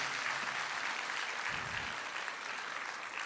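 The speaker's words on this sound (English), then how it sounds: "let's hear a round of applause for Samhita" An audience at a school's annual day claps for a student, a steady, even wash of applause that holds across the whole moment, with a brief low thump partway through.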